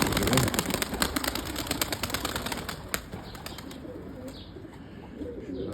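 Ekeler pigeons coo softly in a close coop, with rustling and flapping wings mixed in.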